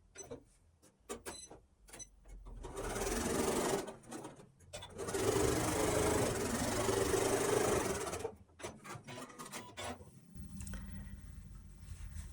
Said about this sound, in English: So we'll now sew, again, a 1/4 inch seam along this